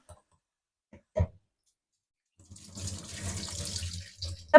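Kitchen tap water running while vegetables are washed: a few small knocks, then a steady, close splashing stream into the sink over the last couple of seconds.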